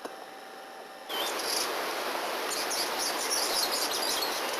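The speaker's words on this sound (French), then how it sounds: "Petit oiseau de la forêt." A small forest bird sings in the wild in Zahamena, Madagascar, with high chirps over a dense, steady hiss of insects, fairly faint and without voices.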